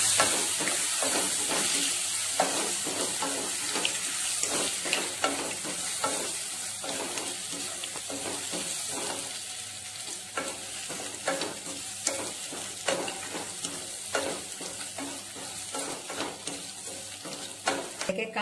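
Pieces of elephant foot yam frying in a pan, giving a continuous loud sizzle with many sharp spoon scrapes and clacks from stirring throughout, up close.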